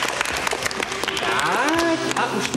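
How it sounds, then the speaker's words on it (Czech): A theatre audience at a 1977 Czech television cabaret claps steadily throughout, the applause dense and continuous, while a voice and tonal sounds rise faintly beneath it. "Opět tleskáme, protože se nám to jako obvykle líbí."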